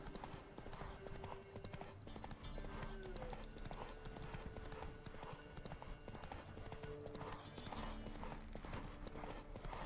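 A horse galloping in The Witcher 3, steady rhythmic hoofbeats thudding at a fast pace throughout, with game music and faint talk underneath.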